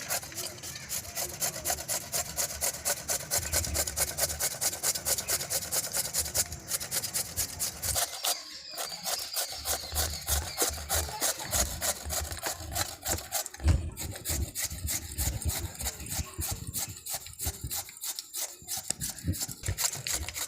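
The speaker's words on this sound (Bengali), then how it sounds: "পেঁপে ঘষা আমার হয়ে গেছে," Papaya grated by hand for crisp papaya pakoras, a steady fast raspy rubbing that runs continuously at close range with brief pauses, no talking.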